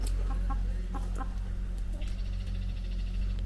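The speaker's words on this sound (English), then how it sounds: "But let's check out the chickens." Chickens cluck in short, close bursts against a loud, steady low rumble, with a few clucks repeating near the start and a sharper call toward the end.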